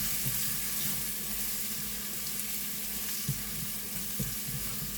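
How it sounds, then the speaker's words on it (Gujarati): Spices being stirred in a frying pan for an Indian zucchini curry, with steady sizzling and frying under soft scraping and stirring noises, a couple of faint clinks, no talking. "તે બધો મસાલો કરીને આપણે બરાબર મિક્સ કરી દઈએ।"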